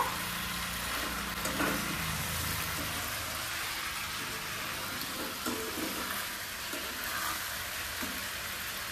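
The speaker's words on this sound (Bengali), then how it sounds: "চিকেনটাকে ভালোভাবে কষাচ্ছে" Marinated chicken and potato fry in a pan, giving a faint, even sizzling hiss with a few light stirring sounds over a low background rumble.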